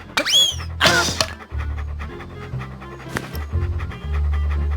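A dog pants in Monkey Island 2: two sharp cartoonish vocal sweeps come first, then a steady rhythmic pant over low game music.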